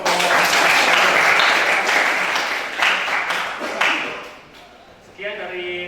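Students in a light-vehicle engineering workshop classroom applaud a presenting group with a burst of dense, close clapping that swells, then tapers off, followed by a voice speaking at the end.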